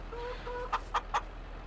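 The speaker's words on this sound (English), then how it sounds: "Our nice chickens here." Chickens in a farm game give a few short clucks, three quick bright notes over a low steady hum, near and fairly clear with no voices.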